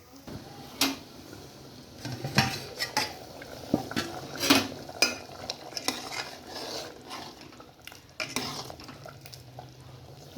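Metal pot lid and utensils clank against a cooking pot while an egg, potato and tomato curry simmers, several sharp clinks scattered over a faint background sizzle.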